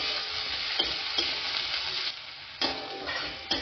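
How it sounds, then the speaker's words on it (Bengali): Chopped onions frying in a pan for masala dosa filling, a continuous sizzling crackle with occasional stirring taps and scrapes, close and moderately quiet. "পেঁয়াজটা একটু ভালো করে ভেজে নেব।"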